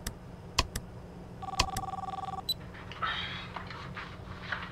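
A telephone in the Popgoes video game rings with a quick, rapid electronic trill after a few sharp clicks, then gives way to softer rustling game sounds.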